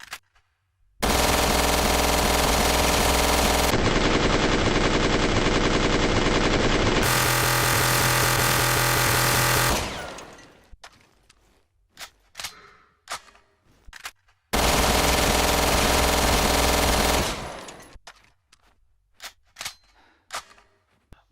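Golden Ammo Box 50 machine pistol in Resident Evil Revelations 2 firing long, loud, sustained full-auto bursts, one roughly nine seconds long and another about three seconds later, with scattered clicks and clatter between them.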